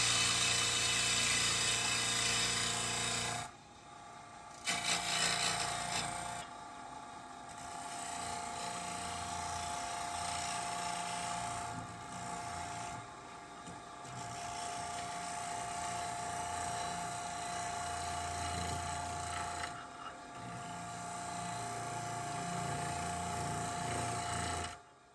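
Black walnut spinning on a wood lathe as a gouge cuts and throws shavings, a steady close whirring, high-pitched cutting drone that drops out briefly a few times and then resumes.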